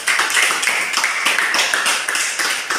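A classroom of vocational high school students clapping together, a dense run of quick overlapping claps at an even rhythm.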